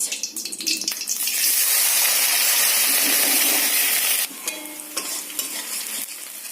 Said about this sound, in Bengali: পেঁয়াজটা ভালোভাবে ভেজে নিচ্ছি একটু লাল লাল করে